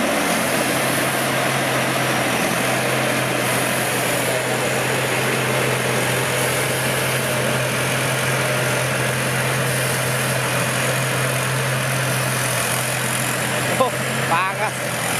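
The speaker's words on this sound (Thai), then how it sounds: "เครื่องยนต์ฮีโน่" A rice combine harvester from Suphan Buri with a Hino engine runs steadily in a field, a continuous loud diesel drone with a humming tone, while people talk over it.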